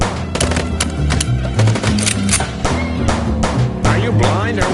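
Rapid gunfire from a car chase shootout in the noir game Chicken Police, with dense repeated shots bursting over a driving musical score, loud and continuous with little pause.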